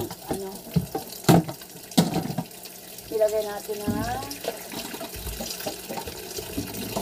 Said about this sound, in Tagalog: atin na itong hugasan nga pala. Para matanggal yung alat na nilagay natin